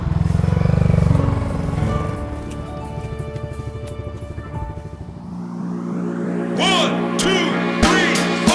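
A motorcycle engine revs nearby and then pulls away, its note climbing and fading as it departs, followed by clattering and other vehicle noise close by.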